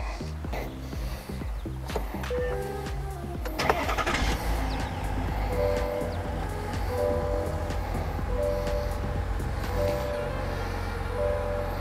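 A Chevrolet Suburban with a Duramax diesel engine is started, a brief cranking burst around four seconds settling into a steady, close, low idle rumble that continues to the end without speech.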